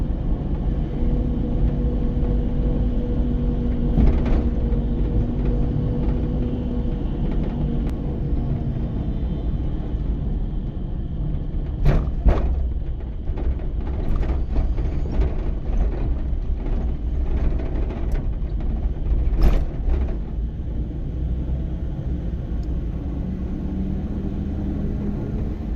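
Car driven slowly along a forest road in an elephant area of Maharashtra, windows open, giving a steady low engine and road rumble with a few sharp knocks and rattles from the bumpy track.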